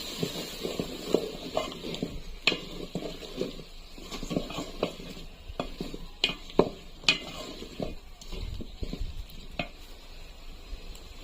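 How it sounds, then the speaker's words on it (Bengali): Pieces of ash gourd tipped into a hot oiled pan with salt, then stirred with a utensil, giving soft sizzling and a scatter of scraping clinks and taps against the metal over several seconds, fairly quiet and close. "কষানো হয়ে গেছে, এখন জালি কুমড়াগুলো দিয়ে দেব।"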